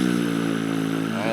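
A voice imitates a Pagani Zonda R engine with a new exhaust system: a steady, buzzing, engine-like drone held close and loud for over a second.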